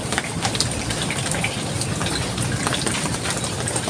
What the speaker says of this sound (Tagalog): Abot yung kalabog ng ano, alon.